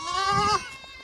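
Goat bleating at night on a farm, a single loud wavering cry close by that stops abruptly and leaves quiet behind it.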